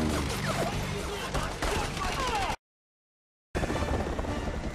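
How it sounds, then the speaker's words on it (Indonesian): A film scene's gunfire exchange with guards around a helicopter: dense, loud bursts of shots crackle continuously, break off into a second of silence, then resume just as heavily. "Lalu Booth membalas dengan tembakan."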